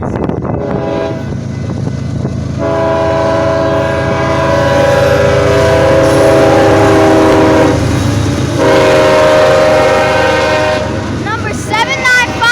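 A fast BNSF freight train heading to the Avondale yard roars past up close and loud, its horn blaring in long sustained blasts over a continuous heavy rumble of rolling wagons.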